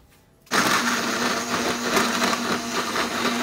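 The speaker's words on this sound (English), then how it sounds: "Can you help me turn on the blender? I'm making a smoothie." Blender making a smoothie switches on abruptly after a brief quiet moment, then runs loud and close with a steady whirring roar and rattling contents until the end.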